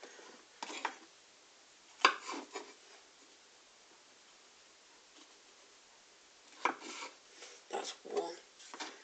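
A kitchen knife slicing the stalk off a mushroom makes quiet scraping cuts, one near the start and a cluster of short strokes toward the end, separated by near silence.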